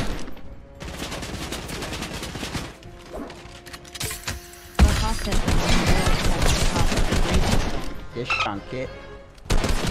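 Bursts of gunfire and sharp impact cracks in a Fortnite match, rapid volleys that pause and then resume louder after a heavy thump, with a voice talking briefly over the shooting.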